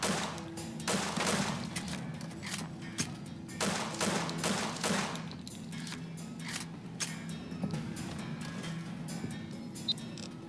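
Rapid bursts of automatic gunfire from a firefight in the video game Fallout: New Vegas, volleys repeating in quick clusters across the clip at a steady, moderately loud level with no talk over it.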